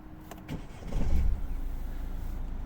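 A 2015 Peugeot 308 SW with a 1.6 HDi diesel engine cranks briefly and catches, settling into a steady low idle, close and fairly loud with no voices.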